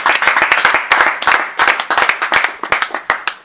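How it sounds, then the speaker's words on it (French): An audience claps for the president of a charity NGO, loud and close, with distinct individual hand claps in uneven bursts that keep going throughout. "Nous pouvons applaudir pour cette grande dame"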